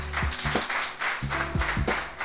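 An audience at an urban culture festival applauds a group of young champions who won 14 French championship gold medals. Steady, moderately loud clapping with pulsing beats runs under low background music throughout.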